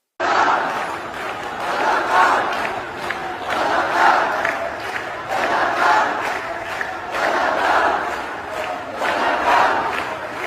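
Large crowd chanting during the historic procession at Dhaka University, loud rhythmic shouts rising in regular waves about every two seconds, sustained and unbroken by any separate voice.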